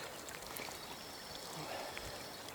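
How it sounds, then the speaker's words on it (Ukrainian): Small river Ramenka swollen by a December flood near its confluence with the Solova, a soft, continuous wash and trickle of flowing water at low level, steady throughout with no distinct splashes. "Груднева повінь, мала річка Раменка, недалека від міста злиття із середньою річкою Соловою."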